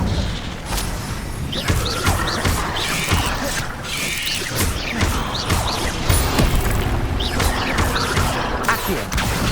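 The Incendio fire spell in the video game Hogwarts Legacy, cast in combat, gives repeated whooshing bursts and crackling crashes, loud and close, with a few sharp impacts mixed into the noisy fight.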